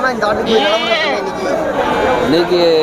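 Goats bleat repeatedly at a large goat market in Ettayapuram, Tamil Nadu, their wavering cries overlapping under steady nearby crowd chatter and talk.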